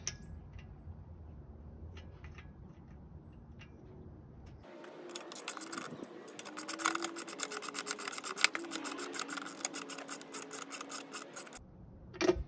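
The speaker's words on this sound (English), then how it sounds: "slide this on, another big washer, and tighten it down" A bolt with big washers is tightened down on a VEVOR garden cart utility wagon, heard as a long run of rapid, close metallic ratcheting clicks after a quiet start, ending with a brief clunk.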